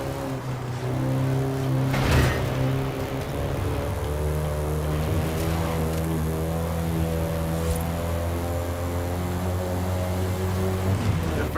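A Volkswagen Golf GTI drives in the Forza Horizon 5 video game, its engine holding a steady, loud drone with harmonic tones that shift pitch as it accelerates and changes gear.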